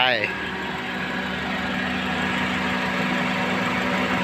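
A 2008 Honda Civic FD engine idles steadily and smoothly, a constant low hum with a faint mechanical tone throughout, close to the microphone.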